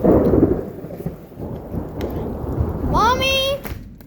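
A huge thunderstorm over Cheney, with heavy rain pouring down in a steady wash and low thunder rumbling under it. A short, high whistling or squealing tone rises briefly near the end.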